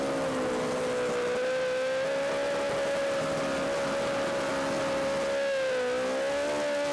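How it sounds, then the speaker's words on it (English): Super street bike doing a burnout at the FIM Super Street Bike 2018 drag racing event, a steady loud engine howl with tire noise sustained for several seconds, alone without talk. "Well, that was Franklin Borg burning out."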